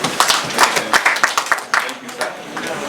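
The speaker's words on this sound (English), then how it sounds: "Can we clap for him?" An audience at a farming gathering in Cross River State claps for a farmer, a burst of close, uneven hand claps that tapers off toward the end, with voices mixed in.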